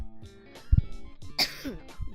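A few short throaty coughs and a throat clearing break up a quiet stretch, close by, with a faint murmur between them.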